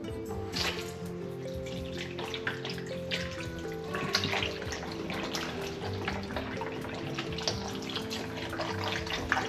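Beef stock pours into a crockpot of softened onions for a simple stew, a close, continuous liquid splash and trickle that runs with small fluctuations for several seconds.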